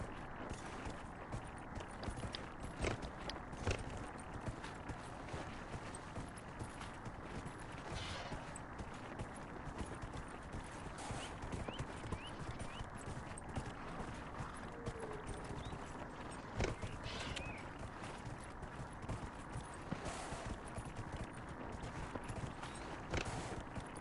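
A goat mount's hoofbeats clatter in a steady fast clip-clop rhythm in the Dragon Age Inquisition video game, continuous and even throughout.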